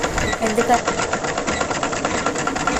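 A sewing machine stitching clothes in a tailoring setting runs in a fast, even mechanical rattle throughout, close and loud, while a person talks over it.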